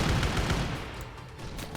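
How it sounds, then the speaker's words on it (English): Rapid gunfire in the Arma 3 war game during a Warhammer 40k-themed operation, a dense booming rattle of shots that fades slightly over under two seconds. "We're gonna move through and clear it out. Rounds out."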